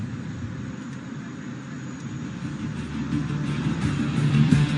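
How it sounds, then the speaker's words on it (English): A LCA Tejas fighter jet performs aerobatics at an airshow, its engine a steady distant roar that slowly grows louder, with no voices present. "watch as he inverts his aircraft and pulls through for a split S, turning her around in no time"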